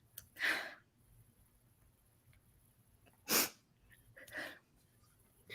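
A person sneezes, a sharp close burst followed by a second louder sneeze and a softer third, with quiet breathing between.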